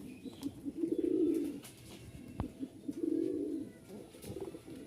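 A pair of Giribaj pigeons coos in two rolling bursts, close and fairly loud, with softer murmuring between and no talk.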